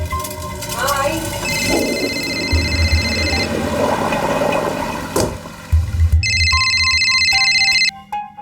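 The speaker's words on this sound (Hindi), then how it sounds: "देखना तेरा फोन बज रहा है" An electronic phone ringtone plays a repeating melodic tone, with rustling, clunks and background noise around it, then the ringtone sounds again clearly near the end.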